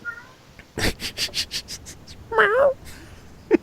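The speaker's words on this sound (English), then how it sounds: "It's a cat." A cat gives a short wavering meow after a burst of rapid thumping taps, then a tiny chirp at the end, close and fairly loud.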